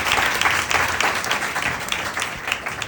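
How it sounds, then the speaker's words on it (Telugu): A church congregation claps in praise during a sermon, a sustained, fairly loud wash of many hands with slight swells in intensity and no talking over it. "క్లాప్ ఆఫరింగ్ అన్నారు."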